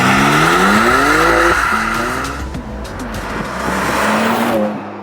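BMW M3 Competition with quad 100mm exhausts in a carbon fibre diffuser, engine note rising and falling through revs with tire squeal, loud and close, sweeping up and down over several seconds.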